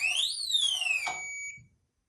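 A Blacksmith biometric dropbox safe sounds its electronic alarm: a shrill rising-then-falling siren tone that sweeps up and glides down, ending in a steady beep that cuts off after about a second and a half, close and clear.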